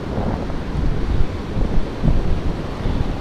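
Sea waves and gusting wind on the coast at Nha Trang, Vietnam, a loud continuous wash of surf with buffeting wind rumble on the microphone, steady throughout.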